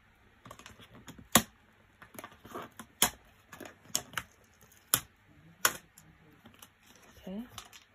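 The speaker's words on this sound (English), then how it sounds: "let's just hop right into this by taking off these plastic wraps from each side" Plastic wrap being peeled off the sides of an Xbox Series X box: close, sharp crackles and clicks in irregular bursts, with soft handling sounds between them.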